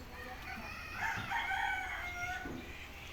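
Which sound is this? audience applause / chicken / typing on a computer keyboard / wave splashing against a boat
chicken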